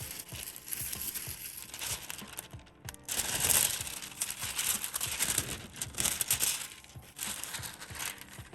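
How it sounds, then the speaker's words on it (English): Previously used aluminium foil sheet being handled for a bead-making craft project, giving a steady, close crinkling and crumpling that swells louder midway and continues throughout with no talking. "you're gonna see me take some previously used foil"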